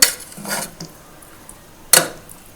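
A pressure cooker of cooked oil-brinjal curry being opened: a few sharp, close metallic clanks of the lid and utensil, with a loud burst at the start and another near the end, and quiet gaps between.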